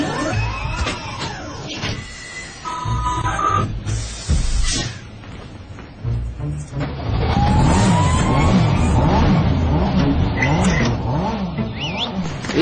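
A car engine revs and roars in repeated surges, with tire skids and squeals, loud and close, climbing into sustained high revving toward the end.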